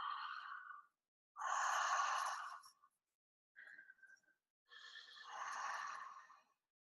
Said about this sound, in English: we do a little bit of circular connected breath, which is pulling in on the inhalation and relaxing on the exhalation